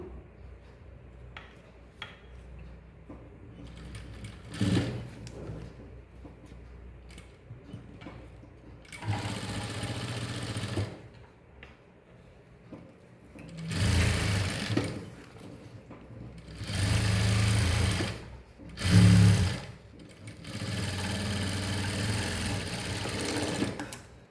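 A sewing machine stitches a coat collar in short separate runs, several loud whirring bursts of different lengths with quieter pauses between them.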